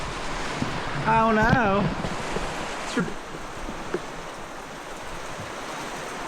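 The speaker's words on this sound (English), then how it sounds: "See the waves way down there?" Ocean surf washes far below a cliff during a rainy storm, a broad, distant rushing hiss blended with wind on the microphone, with a brief exclamation from a voice early on.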